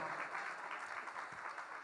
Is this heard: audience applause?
yes